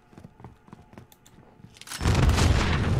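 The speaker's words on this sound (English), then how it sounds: "You guys hear that explosion? That was scary." A loud, close explosion erupts in the Warzone video game, a sudden roaring blast that stays dense and rumbling after a quieter stretch of faint in-game clicks and thuds.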